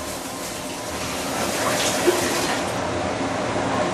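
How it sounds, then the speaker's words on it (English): Gravy pours steadily onto a plate of river prawn noodles, a continuous close liquid gush with a faint background hum. "Alright, put the gravy on top."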